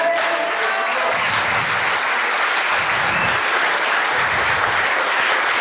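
A church congregation claps steadily and loudly throughout, a dense, continuous wash of applause with a few voices faintly mixed in.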